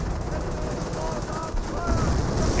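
M1E2 guns fire in a Company of Heroes battle, loud gunfire thudding under a dense, noisy battlefield din, with a voice talking over it and the racket swelling toward the end.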